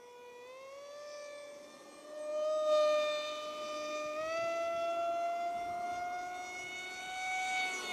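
An RC Powers Eurofighter V5 model jet flies at full throttle, its high whining motor tone rising and shifting in pitch as it passes through fast turns, steady and moderately loud throughout.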